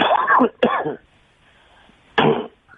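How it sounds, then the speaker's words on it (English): A couple of short, harsh allergy-related throat-clearing coughs, close up, separated by a quiet pause, followed by one more brief cough. "I have allergies, so it makes me cough"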